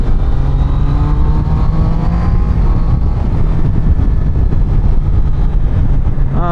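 A Triumph Daytona 660 sport motorcycle is ridden on the road, its engine a loud continuous drone with rising and falling pitch as it accelerates, close and steady, mixed with wind noise.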